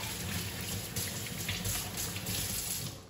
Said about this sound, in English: Then we rinse them, take all the soap off